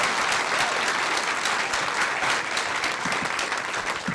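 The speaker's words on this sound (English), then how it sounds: "You can clap, it's okay." A crowd clapping for Billy Dee Williams at a public appearance in Cincinnati, steady loud applause from many hands that carries on evenly throughout.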